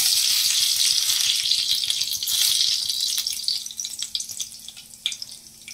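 Cumin seeds and whole garam masala fry in hot refined oil for a homemade masala mushroom dish, a loud close sizzle that starts strong and slowly settles into softer crackles and pops.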